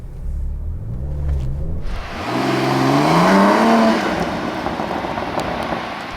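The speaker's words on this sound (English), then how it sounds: "I will put it into drive." A 2021 Bentley Continental GT W12 pulls away and accelerates, its deep engine rumble rising in pitch and swelling louder before settling into a steady cruise, heard from inside the cabin.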